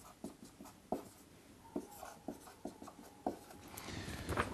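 Pen or chalk writing by hand during a French math lesson on periodic functions: a series of short scratchy strokes and taps in an irregular rhythm, close and fairly quiet, with no talking.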